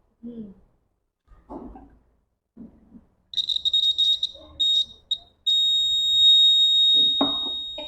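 A shrill electronic alarm from a homemade classroom circuit of aluminium foil, chopsticks and a straw beeps in short bursts, then sounds in one long continuous tone, loud and close, with a few brief voices in between.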